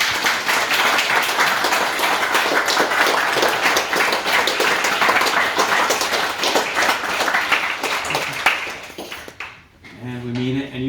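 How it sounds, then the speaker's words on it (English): A room of family and guests applauds at a 90th birthday celebration, dense steady clapping for about nine seconds before it fades out and a voice begins talking. "Let's give him a hand clap."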